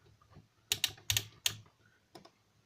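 Plastic parts of an Energon Jetfire transforming figure clicking as they are moved, a quick cluster of four sharp close clicks followed by one lighter click.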